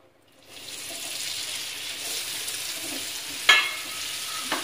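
Sweet potato slices dropped into melted ghee set off a sudden, steady sizzle that holds moderately loud, with a brief clatter near the end.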